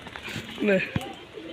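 A short coo from a male pigeon sounds up close, with a voice talking around it and a light tap partway through.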